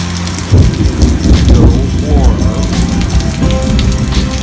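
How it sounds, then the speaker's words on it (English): Steady rain falls during a coastal storm, a dense hiss of drops on surfaces with a low rumble swelling through the middle, close and continuous. "As you can see, we got a little rain falling."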